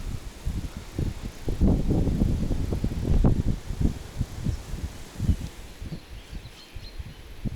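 Gusty wind buffets the microphone in uneven low rumbling bursts while fishing for pike, strongest in the middle, then easing off.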